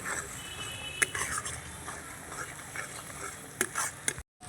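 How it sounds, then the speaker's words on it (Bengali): Spice paste for a milk paneer curry sautéed and stirred in a pan: a soft, steady sizzle with occasional sharp spatula clicks and scrapes, fairly quiet and close. "মশলাটা আমি আবারও কষিয়ে নেব।"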